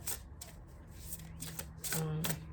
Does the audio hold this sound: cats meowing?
no